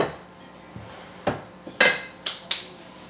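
Spoon clanking against a pot while stirring heavy Southern goulash: five or six sharp metallic knocks, irregularly spaced and close by, over a quiet kitchen background.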